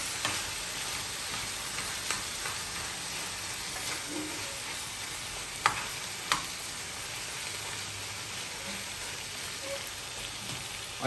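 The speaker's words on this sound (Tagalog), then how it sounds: "Nagpiprito na siya." Oil sizzles and crackles steadily as pork fries in a pan, with a few light clinks of utensils.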